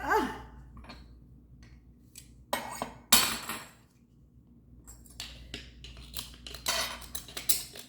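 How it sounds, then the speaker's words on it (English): A metal garlic press squeezed and scraped clean in a kitchen, producing sharp clicks, metallic clatters and rasping scrapes in irregular bursts separated by quiet pauses, close up, with no talking. "Put more garlic in the press. Press it down together and scrape it off."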